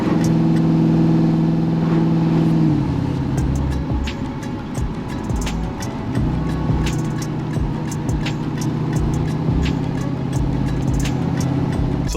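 A Chevrolet C10 longbed pickup with a 540 big-block V8, running rich, drives along the road. A loud, steady engine drone holds close throughout, with a brief shift in tone around the third second.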